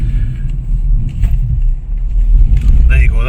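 A car rolls over a railway crossing on a rural drive, giving a steady low engine and road rumble with a couple of brief bumps near the end.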